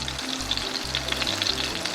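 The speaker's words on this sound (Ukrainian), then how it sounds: "Ми продовжуємо далі смажити." Pounded chicken fillet chops sizzle steadily in a frying pan, a dense continuous crackle and spatter close to the microphone with no talking.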